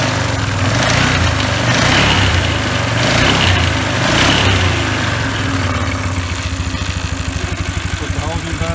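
A 1997 Polaris 500 ATV engine idles and revs close by with its new drive belt fitted, a loud rough drone swelling with throttle blips, then settling into a pulsing idle, with someone speaking over it.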